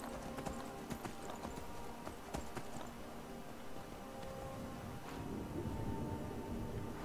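Horse hooves clip-clop steadily in the video game Skyrim, a continuous rhythmic trot at moderate volume against a dense ambient game background.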